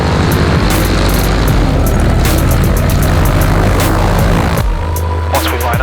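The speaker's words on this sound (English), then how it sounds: "Got the crew, got the biplane." A biplane's engine and propeller drone loudly and steadily at close range with a throbbing low hum, at a Flagler Beach, Florida fly-in, before the engine note drops near the end.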